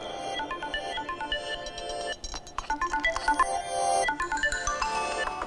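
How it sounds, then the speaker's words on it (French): A telephone rings indoors in a series of bright electronic tones, moderately loud with a short break midway before the ringing resumes. "Un téléphone qui sonne."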